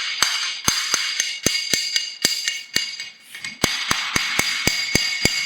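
Sharp, hard taps on kitchen wall ceramic tiles ring out in an uneven series, some quick and clustered, others spaced apart, with a glassy click to each.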